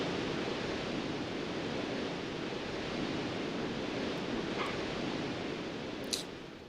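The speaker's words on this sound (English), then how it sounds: "It's like how the music fades out and all you hear is the waterfall." Steady waterfall ambience from the video game Tomba! 2 rushes continuously as broadband noise, with a faint brief chime near the end and no voices.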